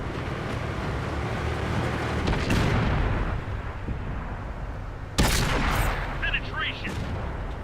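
A tank main gun firing at a target in the combat game Flashpoint Berlin, heard as a single heavy blast with a sharp crack and rumbling tail, set against ongoing engine drone and battle noise.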